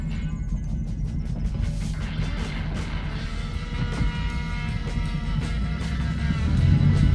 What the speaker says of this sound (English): Motor's got good power.